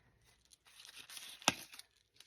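Pruning shears snip through a grapevine branch for a fall wreath, a short rustle of twigs building to one sharp close cutting snap, then quiet.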